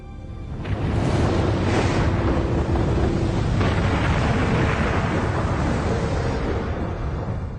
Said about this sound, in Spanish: fue creada por una gigantesca erupción volcánica